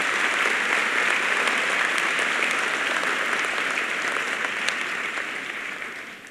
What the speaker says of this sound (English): we should give her a round of applause anyway